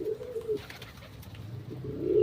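Pigeons coo in a pigeon loft, a soft, low warbling coo near the start and another at the end, over quiet background rustle.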